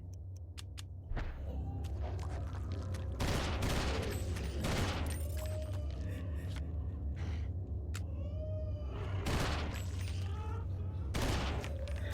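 Gunshots from a handgun in the horror game Eternal Darkness ring out as a series of sharp, separate blasts over a steady low background hum, with a few quiet tones in between.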